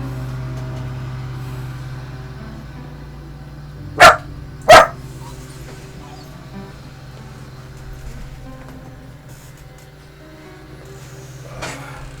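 A puppy gives two sharp barks in quick succession close by, then a fainter yip later, over a steady low hum of a room with a mower running outside.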